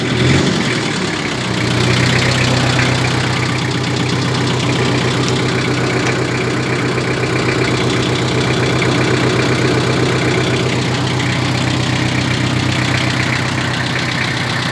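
A tractor with a front loader idles steadily and loudly close by, a constant low rumbling drone with slight knocking texture, running alone without voices.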